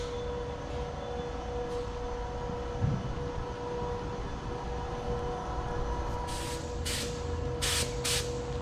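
Bursts of pressurized spraying hiss in short repeated passes toward the end as Alumaclear coating is sprayed onto a Titan trailer, over a steady mechanical hum and low background rumble.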